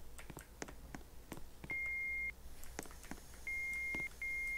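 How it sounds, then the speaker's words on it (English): Three steady electronic beeps from an elevator in a Roblox game, each holding a single pitch for about half a second, over a background of scattered clicks and clatter. "You can actually hear the beep from that"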